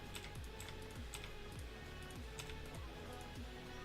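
Repeated presses of the delete key on a computer keyboard, a steady run of light clicks at a fairly even rhythm, close and clear over a constant background hiss.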